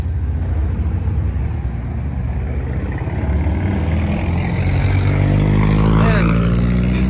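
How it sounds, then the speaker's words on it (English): Loud trucks rumbling past on a street in Big Bear, a broad, heavy engine drone that swells steadily and peaks near the end as a vehicle passes close by. "Man, these loud trucks are so annoying."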